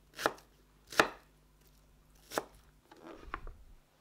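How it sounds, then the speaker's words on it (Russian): A knife slices peeled onions into thin strips on a board, making a few crisp, close cutting knocks at an uneven pace with short pauses between them and no voices. "5 очищенных луковиц репчатого лука разрезаем на 2 или 4 части, как вам больше нравится, и нарезаем тонкими пластинками"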